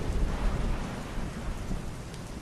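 Steady heavy rain falls in a continuous dense hiss with a low rumbling undertone, constant and unbroken throughout.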